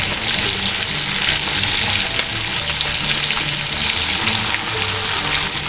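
Country chicken pieces for a Kerala-style curry frying in a pan, a loud, dense and continuous sizzle with crackling oil that holds steady from start to finish, with no talking.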